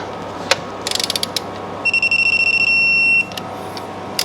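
A torque wrench tightens inner primary bolts on a Harley, giving a short run of rapid ratcheting clicks followed by a sustained electronic beep as the set torque is reached, close and clear.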